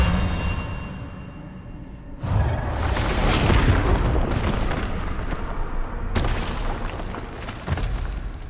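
In Hogwarts Legacy, the Expelliarmus spell goes off with a sudden booming blast after a quiet lead-in, then a roaring rush of energy that cuts out briefly and surges once more.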